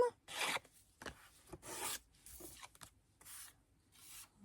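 Short rasping strokes of a file worked along paper edges while making a scrapbooking envelope, about eight quiet, close scrapes in a steady back-and-forth rhythm with brief pauses between, no talking.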